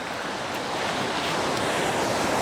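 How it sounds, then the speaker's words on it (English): Continuous broadband wind rush on a microphone fitted with a foam windscreen, steady and fairly loud, with a soft surf-like roar and no voices. "The wind foam is blocking the wind"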